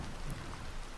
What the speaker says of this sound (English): I can also add thunderstorms to that if I want.